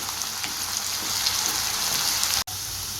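Ground onion paste sautéing in a pan for a creamy restaurant-style chicken gravy, a steady close hiss and sizzle like light rain that runs unbroken except for one tiny dropout.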